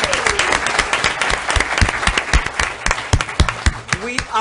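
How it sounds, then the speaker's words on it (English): Applause from an audience at a city commission meeting in Pahokee, honoring a school, dense clapping that runs steadily throughout with individual sharp claps standing out and a murmur of voices underneath. "So let's give them a round of applause."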